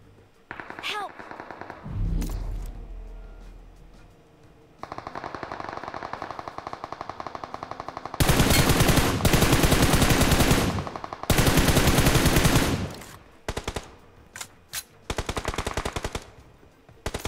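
Bursts of automatic gunfire in the mobile battle royale game PUBG Mobile, with long sustained volleys and shorter rapid bursts, loud and close, while players talk over the shooting.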